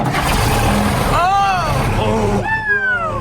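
A fire truck engine cranks and turns over, a loud rumbling mechanical start with rising whining tones over steady low engine noise.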